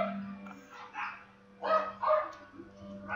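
Dogs in a house bark in short, moderately close yips spaced over a few seconds, above a steady low electrical hum.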